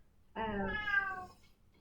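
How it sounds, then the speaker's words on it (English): A single drawn-out cat meow, clear and fairly close, rising then fading over about a second against a quiet background. "I hear the kitty cat."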